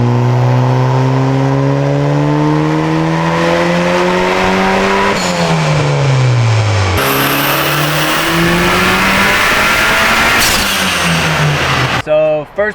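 Nissan S13 with a built SR20 engine revving hard on a dyno, loud and close, its pitch climbing steadily through repeated long pulls before dropping off near the end.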